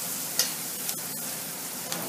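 Chopped onions fry in oil for chole masala until light brown, giving a steady, even sizzle with a couple of faint stirring clicks.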